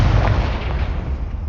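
A Confringo fire spell blasts in Hogwarts Legacy, a loud, deep explosive boom with a rumbling burst that fills the whole short moment.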